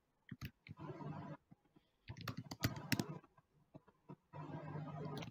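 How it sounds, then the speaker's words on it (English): Computer keyboard typing comes in bursts of rapid, close clicking, separated by short pauses, quiet and with no voices over it. "I hear there's some keyboard sounds coming through"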